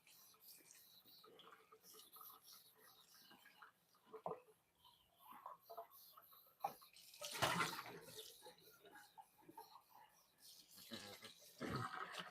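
Hot water runs into a tub or sink while eggs are being cooked in a kitchen, a steady splashing wash that swells in bursts around the middle and end of the stretch.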